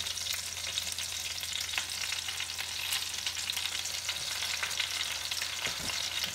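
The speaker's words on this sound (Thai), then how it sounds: "คนไปค่ะไม่ต้องกลัวว่า จะติดนะคะเพราะเราใช้ไฟอ่อน" Flour is stirred into melted butter in a pan over low heat to make gravy, giving a soft continuous sizzle with faint scraping from the spoon, steady and close, with a low hum underneath and no voices.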